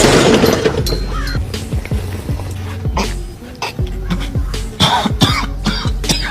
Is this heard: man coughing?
yes